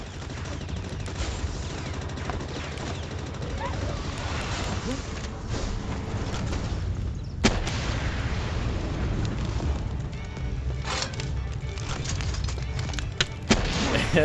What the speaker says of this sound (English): That minigun is crazy.